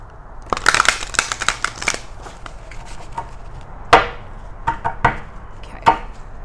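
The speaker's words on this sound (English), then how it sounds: "let's give it one more shuffle." Tarot deck being shuffled by hand, a quick run of crisp riffling card flutters followed by scattered sharper taps and slaps as the cards settle, close and fairly loud with no talking.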